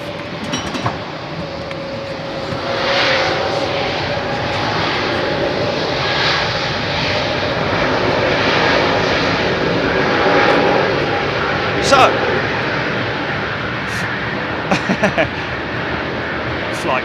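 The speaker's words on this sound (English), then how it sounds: "Flight takes off" Airliner taking off at London Heathrow on a busy evening, a sustained engine roar swelling and fading over the runway, with brief clicks and talk nearby.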